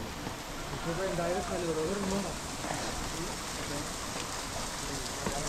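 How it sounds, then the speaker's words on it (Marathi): Rain falls in a constant wash of hiss on a hill during a trek, with a voice speaking briefly underneath partway through. "डोंगरच्या वरनं असं पाऊस पडायला लागला असं वाटते"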